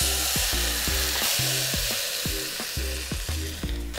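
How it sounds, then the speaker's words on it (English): Pork butt sears in a hot pan, a steady loud sizzle broken by repeated scraping strokes of a utensil stirring and pressing the meat, with no talking. "We are going to sear off our beautiful pork butt."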